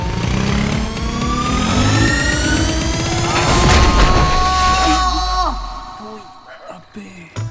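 A car engine revs up as the clutch is released and the accelerator is pressed, a rising motor drone under talking voices, then fading away near the end.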